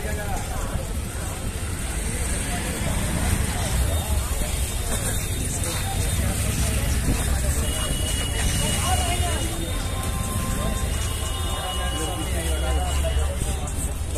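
Heavy road traffic outside Anand Vihar railway terminal: a dense, constant roar of engines and honking horns. Talk and crowd babble run over it throughout.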